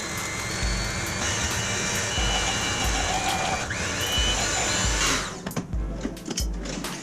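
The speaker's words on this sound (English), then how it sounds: "we're going to take the wet and slowly add it into the dry with the mixer running" An electric mixer runs continuously while muffin batter is mixed, a steady whirring drone with a rhythmic low thumping, loud and close throughout.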